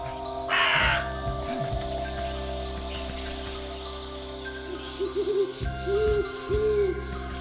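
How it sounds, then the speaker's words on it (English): Owl hoots from the video game Wytchwood, a series of low, mellow calls, some overlapping, over steady game ambience and music. "translating the owl's hoots into something more understandable"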